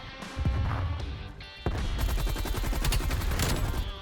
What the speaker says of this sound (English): the recoil of that machine gun going off